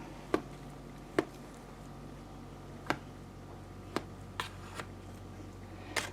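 A knife or server cutting into a soft, frosted tres leches cake, giving about seven short, quiet taps and scrapes spaced irregularly over a faint steady background hum.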